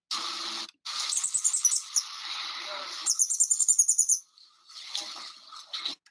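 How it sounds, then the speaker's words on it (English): Tiny high-pitched cheeps from baby hedgehogs come in quick rhythmic bursts, several rapid peeping series separated by short pauses, close and fairly faint. "This is the sound of baby hedgehogs."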